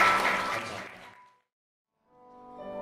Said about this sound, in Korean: 내빈 여러분들의 축복의 박수가 끊어지면 안 되겠죠